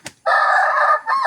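A chicken crows nearby, a loud, strained, drawn-out call that breaks off briefly before a second short burst, preceded by a quick click.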